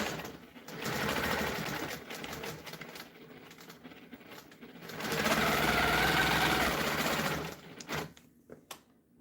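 A sewing machine stitches a continuous border in steady whirring runs, close and fairly quiet, rising louder in the middle bursts, then slowing to a few short stitches at the end.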